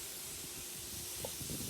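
Lawn sprinklers spray out water with a steady, loud hiss that holds at the same level throughout.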